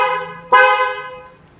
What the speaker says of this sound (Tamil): நல்ல ஒரு ஹாரன் சவுண்டு தான்.